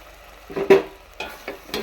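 A spoon scrapes and stirs frying onions with coriander and mint leaves in a pan for chicken biryani, giving a few short, close scraping strokes over a soft sizzle, with no talk.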